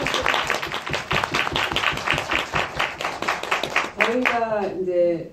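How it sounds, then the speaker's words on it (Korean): Audience clapping at a film screening talk for the Korean film Flowers of Mold, a steady burst of claps for several seconds before a voice speaks over the tail. "네, 박수"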